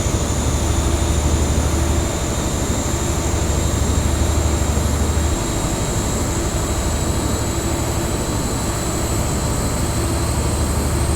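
In the Railworks 3 Train Simulator game, a diesel locomotive engine runs at full throttle with a loud, steady, continuous drone and high whine that barely changes throughout.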